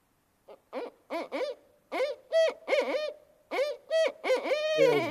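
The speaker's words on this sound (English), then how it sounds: "They're called barred owls." A barred owl hoots in a rhythmic series of rising and falling calls, clear and fairly close, with a drawn-out final note and no other sounds.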